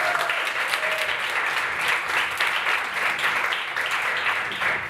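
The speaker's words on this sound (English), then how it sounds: "I would like you to applaud Stephen." Steady, full applause from a live improv theater audience for a human performer in a transatlantic AI improv show, dense clapping sustained evenly throughout at close range.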